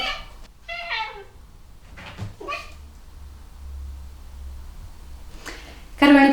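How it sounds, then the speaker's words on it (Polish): A cat meows a few times, short nasal cries spread out over several seconds with quiet pauses and a low hum underneath. "w kółko miałczy, gdy nagrywam i coś mówię do kamery"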